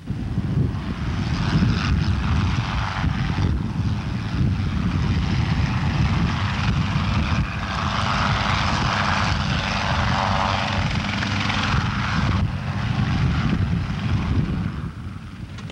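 A continuous, loud engine drone with rotor-like pulsing, holding steady throughout as an aircraft stays close overhead. No talking.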